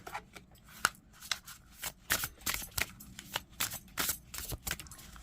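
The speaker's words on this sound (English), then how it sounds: "let's give these cards a shuffle" Tarot cards are shuffled overhand by hand in quick, irregular bursts of crisp slapping and riffling, close up and fairly quiet, with no talking.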